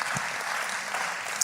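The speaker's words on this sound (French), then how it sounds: "Est-ce qu'on peut applaudir ce que le Seigneur a fait pour chacun de nous?" A church congregation applauds during a service, with a brief burst of dense, even clapping from many hands held at a steady level, and a faint cheer near the end.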